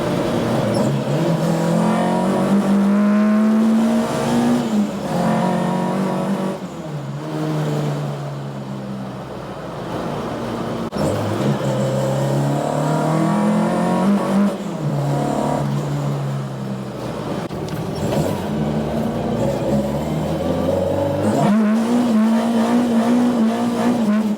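A Ford Escort ST170 Mk1 engine revs hard through several gears, each rising pitch dropping sharply at a quick shift before climbing again, loud and close from inside the car.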